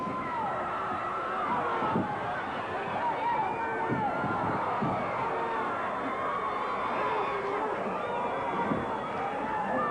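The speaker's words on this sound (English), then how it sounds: "This crowd is going wild. They are all behind Savage." At a 1980s ICW wrestling event featuring Randy Savage, an arena crowd roars and cheers steadily at moderate distance. A commentator talks continuously over the noise.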